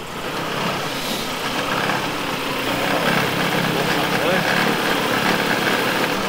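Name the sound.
Mercedes 190E engine running on four cylinders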